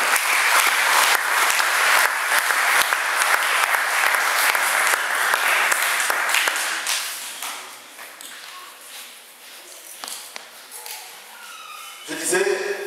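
A church congregation claps loudly for several seconds during a French-language sermon, the dense applause thinning and fading to scattered claps, then a voice resumes speaking near the end.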